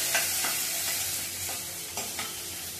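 Vegetables are stir-fried in masala for a Maharashtrian bhaji, giving a steady sizzle broken by several sharp scraping stirs of a spoon against the pan, close and with no talking.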